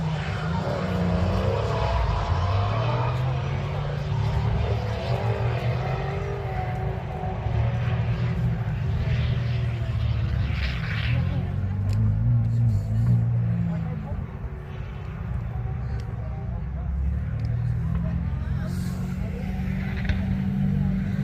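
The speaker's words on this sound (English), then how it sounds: "you can hear George Barkley then coming out of the pit lane straight from the off" A carbon Kevlar BMW M2 drift car leaves the pit lane at Castle Combe circuit, its engine a steady low drone heard from a distance under continuous talk, with no sharp revving peaks.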